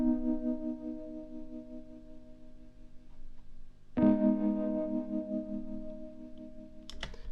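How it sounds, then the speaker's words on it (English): Digital keyboard synth sent through an Amped Gemini American vintage guitar combo amp plugin with vibrato and reverb, plus a Waves CLA-3A limiter: sustained chords with a fresh attack near four seconds and another near seven, no talking. "this keyboard is actually going also through Gemini and a Waves plugin"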